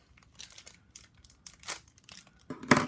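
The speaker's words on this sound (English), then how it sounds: "I have to use a knife to cut a plastic bag open" A knife cuts open the plastic bag on a 2016 Panini Absolute NFL hobby box, making scattered crinkles and scrapes that end in a louder, sharper rip.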